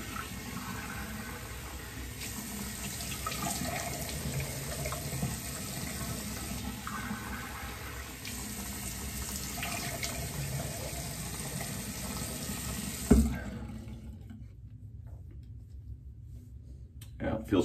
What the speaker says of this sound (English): Let me just rinse my face off with some cold water